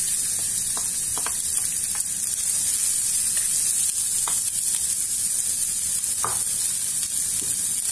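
Onions sizzling in oil in a frying pan over low heat, a steady bright hiss with a few sharp utensil taps and crackles scattered through, close up and without any voices.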